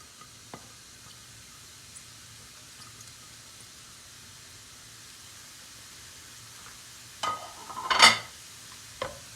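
Leeks sauté in oil in a pan, giving a faint, steady low sizzle throughout, then a few louder scraping stirs and clatters near the end, close by with no talking.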